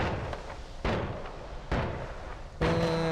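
A shotgun in the game Noita fires four loud, close blasts at a slow, steady pace, each with a short decaying tail.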